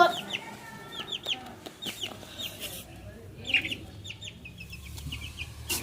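Chickens cluck and chatter continuously nearby, with overlapping short calls and a few louder squawks against a quiet background.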